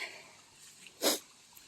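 A single sharp sneeze bursts out near the microphone, brief and loud against a quiet outdoor background with faint wind.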